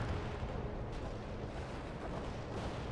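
Artillery fire rumbles in the World in Conflict video game, a dense, continuous barrage of heavy booms blended into one loud, roaring wash.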